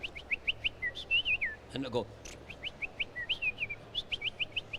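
A man whistles to imitate a bird call: quick repeated chirps and swooping trills come in rhythmic bursts on either side of a short spoken phrase.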